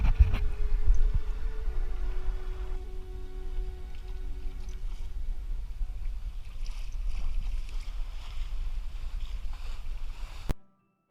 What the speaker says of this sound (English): I filmed the boat's waterline and the boat sliding through the water